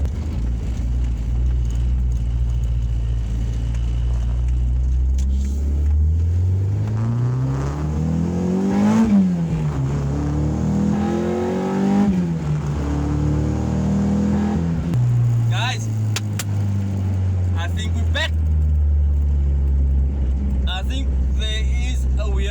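A car engine revs up and down repeatedly during a dyno pull, pitch rising and falling in long sweeps, loud and close throughout.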